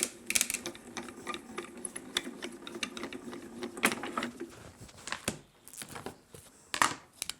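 A hand-cranked die-cutting machine feeds an embossing plate and base plate through its rollers for an inlaid butterfly papercraft, making a string of close, uneven ratcheting clicks and grinding crunches.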